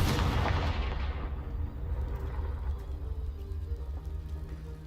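Confringo blasting spell in the Hogwarts Legacy video game, heard as a loud booming blast at the start that decays into rumbling, crackling debris over the next few seconds.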